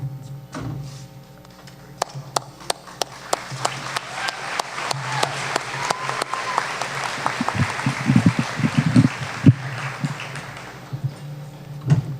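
Audience applause at a college convocation ceremony fills a large hall, a dense steady clapping with sharp individual claps standing out, building slightly toward the end.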